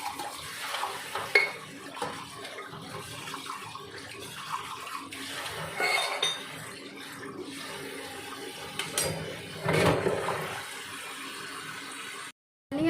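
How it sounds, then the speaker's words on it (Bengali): Small cups and plates washed under a running kitchen tap, with a steady stream of water and occasional clinks of dishes knocking together, close by and moderately quiet, ending with a brief silence. "আর এই ছোটোখাটো কাপ থালাগুলো ওগুলো ধুয়েই নিই আমি, তো সেইগুলোই ধুয়ে নিচ্ছি।"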